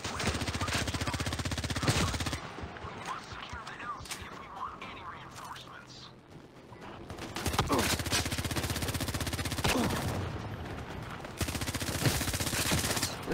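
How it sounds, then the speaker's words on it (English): Small arms gunfire in the shooter game Zero Caliber Reloaded, dense sustained bursts of rapid shots that drop away in the middle and then resume loudly, with faint voices underneath. "Small arms fire, whatever."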